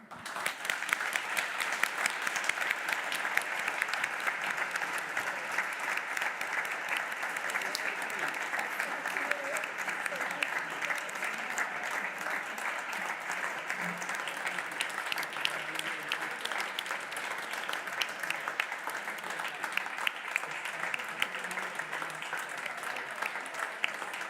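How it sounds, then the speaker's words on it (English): Sustained, dense applause from a conference audience at an environmental awards ceremony, steady clapping without pause for the full stretch. "please join me in this big thank you with an applause"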